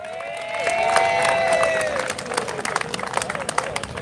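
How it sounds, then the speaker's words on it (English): Applause and cheering rise from a crowd gathered at an evening rally in East Belfast, a dense wash of clapping and voices that thins to scattered claps as it fades. "Give yourselves a big round of applause for everyone that's turned up here tonight"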